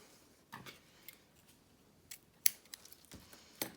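Scissors snipping ribbon while making a paper mini-album, with a few sharp, close blade clicks spread out over otherwise quiet handling.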